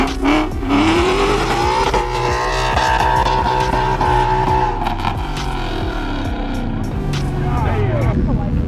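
A lifted truck at an Atlanta truck meet does a burnout: the engine revs hard and climbs in pitch, holds at a high whine, then eases off, with rough tire noise underneath and people talking nearby.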